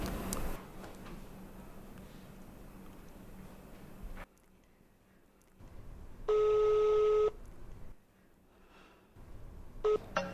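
A mobile phone call being dialed, with a short burst of key tones and beeps after a stretch of quiet room noise, then a few more tones at the end, close and clear.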